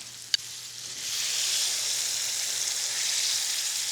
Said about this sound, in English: Tamarind sauce going in.